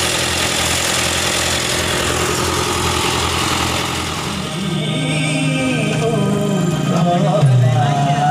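A fishing boat engine idles at the Tawang fish auction dock, a steady mid-pitched chug with vibration that loosens and shifts in tone partway through as a voice talks over it.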